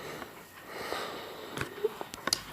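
A person sniffs several times, soft and near, in a quiet room, with short breathy snorts toward the end.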